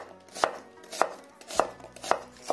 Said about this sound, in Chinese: 准备半个洋葱，切成洋葱丝